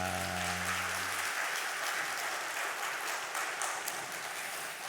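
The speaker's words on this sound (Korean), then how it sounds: "우리 하나님께 영광의 박수를 올려드립니다." A church congregation claps steadily as Sunday worship gives glory to God, the dense applause continuing evenly throughout, with a brief low sustained tone underneath at the start.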